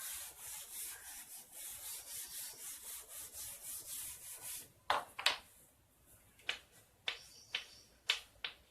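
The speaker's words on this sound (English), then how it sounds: "So now I can rub this." Board eraser rubbing across a writing board during a maths lesson, a steady scratchy swishing for several seconds, then a few sharp separate scrapes and taps close by.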